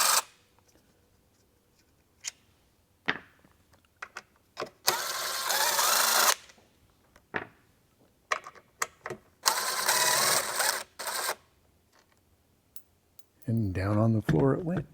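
Machine screws are backed out of the high-frequency section of an FBT Ventis 206A active two-way speaker, with a few bursts of driver whirring among scattered clicks and handling noises, and a voice speaking briefly at the end.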